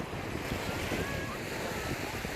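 Waves wash steadily along the Black Sea shore, a continuous broad roar of surf mixed with wind buffeting the microphone, loud and unbroken throughout with no talk.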